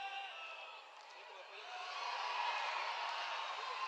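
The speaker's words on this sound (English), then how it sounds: "The crowd not happy with the no call there" Stadium crowd at a Concacaf women's under-20 football match between the Dominican Republic and El Salvador, a steady broad roar of displeasure at a no-call that swells louder midway and holds, heard from a distance without commentary.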